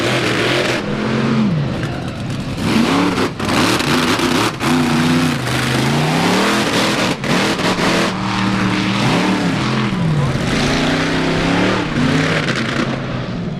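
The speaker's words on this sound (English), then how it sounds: "the engine sounds a little ragged" A loud drag-racing car, the Hotsy Raminator, roars with its engine running ragged at the Indiana State Fairgrounds, its pitch surging and dropping in rough, stuttering bursts with brief cut-outs, sustained throughout.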